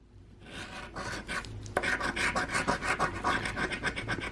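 A $1 James Madison gold coin scratching an Illinois Lottery $30 scratch-off ticket, close rasping strokes in a quick repeated rhythm, steady and fairly loud.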